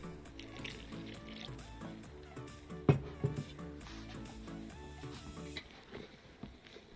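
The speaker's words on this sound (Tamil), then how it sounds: "ஒரு கப் தண்ணி விட்டு நன்றாக கை வைத்து" Hands squish and splash while working a cup of water and turmeric into dosa batter, giving wet slaps and dribbles, a few sharper splashes midway, over soft background music.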